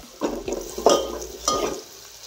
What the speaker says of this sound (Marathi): आता ह्यात मध्ये मी बी टाकणार आहे.